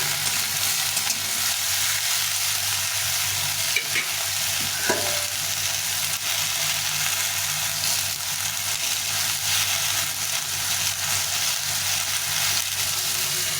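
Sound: frying ridge gourd in a pan

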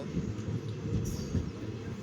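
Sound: train departing a station

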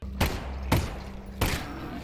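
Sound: gunshot from video game Half-Life Alyx

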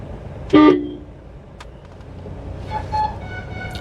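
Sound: car horn honking

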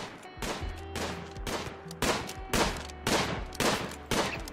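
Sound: gunshots in video game

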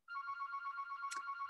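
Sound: mobile phone ringing

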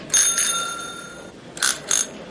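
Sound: quiz show answer bells being tested

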